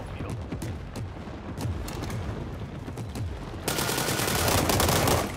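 Gunfire in the video game World War 3, likely a Beryl rifle: rapid bursts of shots with booms, loud and close, denser toward the end, under a mixed game soundscape.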